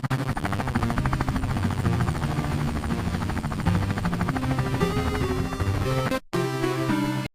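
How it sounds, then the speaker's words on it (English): A heavy-lift firefighting helitanker roars close by, its rotor thumping in a rapid, steady pulse with a loud mechanical drone, briefly cutting out near the end. "The helitanker is a heavy lifting chopper."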